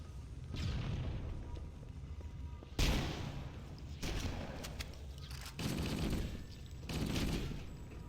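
Rapid bursts of weapon fire and explosions from the video game Halo: Combat Evolved come in several loud clusters, each a second or so long, over a low background.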